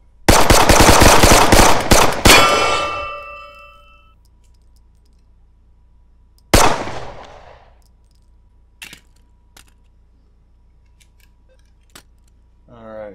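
Rapid gunfire in the VR shooter game Hot Dogs, Horseshoes & Hand Grenades: a loud burst of fast shots for about two seconds ringing out, then a single sharp report and a few faint metallic clicks in near silence.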